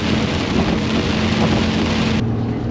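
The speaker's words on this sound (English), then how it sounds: "The rain has gone crazy." Heavy rain drums steadily on a moving car in a downpour so dense the lanes vanish, a loud, even wash of water and road noise filling the cabin without pause.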